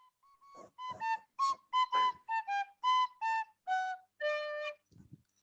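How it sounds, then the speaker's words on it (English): A whistle is played softly in a short melodic run of separate notes, each clear and tonal with small gaps between them, heard alone and close up, ending on a quiet breathy sound. "Lulio, can I play a whistle like I am at the moment?"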